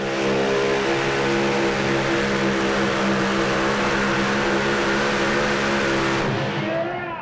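The Plum Crazy super stock pulling truck, running an alcohol and diesel mix, roars at a loud sustained high pitch throughout a truck pull in front of a crowd before cutting off abruptly near the end.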